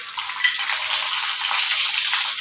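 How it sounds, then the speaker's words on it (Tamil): Mustard seeds and fenugreek splutter in hot oil for a raw mango pachadi, making a continuous close hiss with fine crackling pops and no talking. "இப்போ கடுகு வெந்தயம் பொரியுது"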